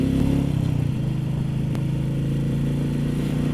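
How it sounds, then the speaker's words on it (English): A Royal Enfield Meteor 350 motorcycle engine pulls away under acceleration, a steady, loud mid-pitched drone with a rapid thumping pulse, held close and constant throughout with no talking. "But the engine just sounds nice when you accelerate away."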